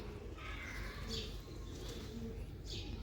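Pigeons coo softly and repeatedly, close by, with a few higher chirps and some background murmur.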